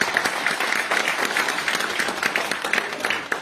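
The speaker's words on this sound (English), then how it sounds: "I love that applause" A convention panel audience applauds the comics artist Dave Gibbons with a lively round of clapping. Individual claps stay distinct within a dense, steady crowd sound for several seconds.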